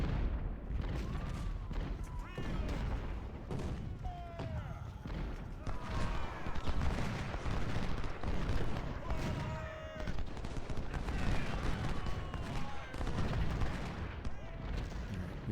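Artillery fire in Ultimate General: Civil War during the second day of a Gettysburg battle, with cannon booms and musket crackle sounding steadily at mid distance and a voice talking over the battle throughout.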